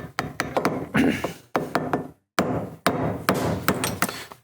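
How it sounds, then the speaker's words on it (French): A screwdriver is tapped at an angle to knock out a pump seal on a BMW K-series motorcycle. A series of sharp, close metallic knocks comes in uneven bursts with brief pauses between groups. "tu prends un tournevis et puis tu tapes"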